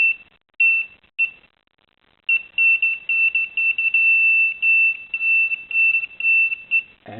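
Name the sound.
metal detector pinpointer beeping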